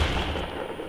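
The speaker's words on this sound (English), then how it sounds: "Am I getting shot at?" Gunfire in the video game Fortnite: a single loud, close burst that fills the short moment on its own.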